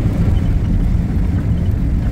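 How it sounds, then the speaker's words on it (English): A farm truck with no air conditioning drives along with its windows down, filling the cab with a loud, steady low roar of wind and engine and road noise. "this truck doesn't have air conditioning, so that's why we've got the windows down and a little noisy"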